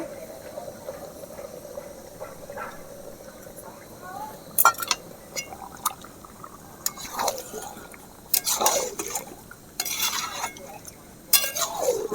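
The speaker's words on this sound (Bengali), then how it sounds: "এবারে আমি ফেটে রাখা টক দই দিয়ে দেব।" Whisked sour yogurt goes into Kashmiri chicken masala in a pot, with a low simmer under soft clinks and several louder bursts of scraping and stirring against the pan, plus a few wet splashes.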